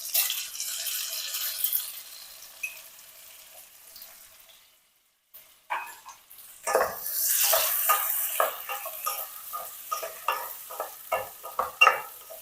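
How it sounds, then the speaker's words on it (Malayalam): Tomato mix is stirred into frying dragon chicken with capsicum in a hot pan: a steady sizzle, a brief hush, then louder frying with rhythmic scraping stir strokes close by, with no voices. "ഇപ്പൊ തന്നെ ഞാൻ ഈ തക്കാളിയുടെ മിക്സും ഇതിലേക്ക് ഇട്ട് കൊടുക്കാണ്."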